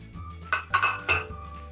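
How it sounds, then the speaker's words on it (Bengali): Chicken pieces dropped into a kadai, a metal pan clinking and clattering in three or four sharp hits over a steady low kitchen hum, close and moderately loud. "চিকেনগুলো দিয়ে দিলাম কড়াইয়ের মধ্যে।"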